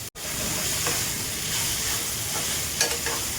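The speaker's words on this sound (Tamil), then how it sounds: "பேஸ்ட்டு போட்டு நல்லா வதக்குங்க" Ginger garlic paste sautéing in a pan for madras chicken, a constant close sizzle and frying hiss with occasional stirring scrapes, steady throughout with no voices.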